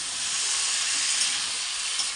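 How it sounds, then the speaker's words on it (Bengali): Masala for a potato and pea curry (alur dum with peas) sizzles steadily in a hot pan, a close, even hiss of frying spices with no talking. "আর এখানে দেখো কষানো হচ্ছে সব রকম মশলা দিয়ে।"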